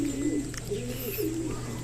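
Pigeons coo repeatedly in low, rounded calls, close by, with a steady low hum underneath.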